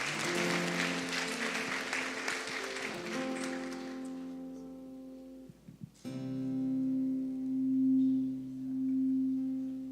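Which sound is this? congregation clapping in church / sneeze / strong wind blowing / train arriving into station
congregation clapping in church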